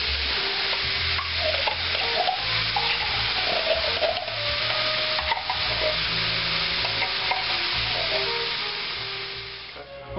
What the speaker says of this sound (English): we're going to add our mushrooms and sweet peas, and we're going to stir this around for about another couple of minutes